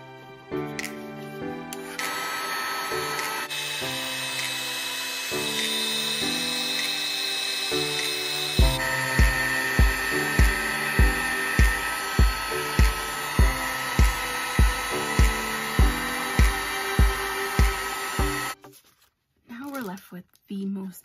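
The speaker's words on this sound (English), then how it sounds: "I'm gonna take my embossing gun" Embossing heat gun warming and melting shimmery white embossing powder on a slimline watercolor card, a steady loud whir that runs on and cuts off near the end, with a rapid series of clicks through its second half.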